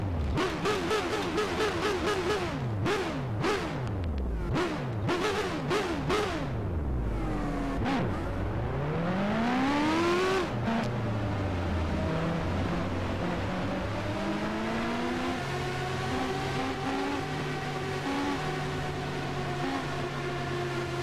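Several race car engines in the NR2003 racing game start and rev up together, loud rising and falling whines overlapping, then settle into a steady layered idle drone with no talking.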